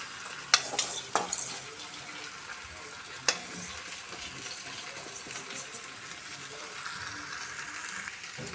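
Sprouted grains tip into a pan and get stirred and fried, giving a quiet, steady sizzle with a few sharp scraping clicks near the start and no talking.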